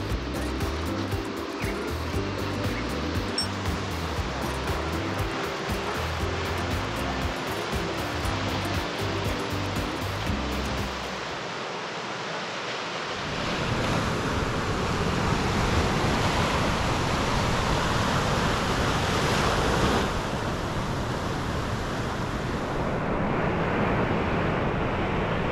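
Ocean waves break along the Sunset Coast near Perth as a broad, steady wash of surf. It swells into a fuller, continuous roar after the first half.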